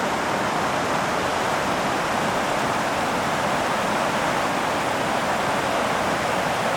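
The South Fork of the San Joaquin River flows with an unbroken, dense hiss and rush near an Evolution Valley backpacking camp, even and loud throughout, with no voices.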